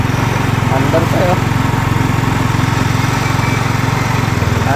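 A motorcycle engine idles steadily after starting, warming up with a loud, even, continuous rumble throughout, its pulses regular and close by.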